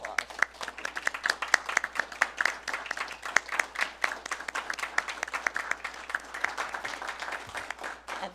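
At a utility board meeting a room full of people gives a sustained round of applause honouring a retiring executive director, dense even clapping that holds steady for several seconds.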